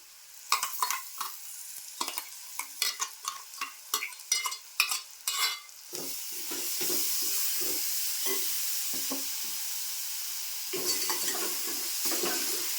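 Homemade masala paste for Malvani-style kaleji petha frying in oil in a pan, with a spoon scraping and stirring in quick close clatters, then settling into a steady loud sizzle with further stirring toward the end.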